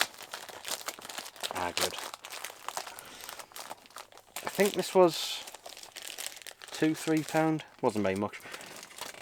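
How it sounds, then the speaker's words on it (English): A plastic mailing bag from a Music Magpie parcel crinkles and rustles in bursts while being opened, with a person talking over and between the crackling. "Music Magpie, again, sending things in bloody plastic bags."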